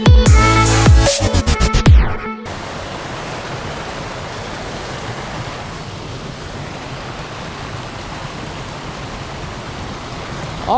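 Low, clear water of an urban creek running steadily, a continuous broadband rush filling the scene after a brief loud burst of other sound at the start, no talk.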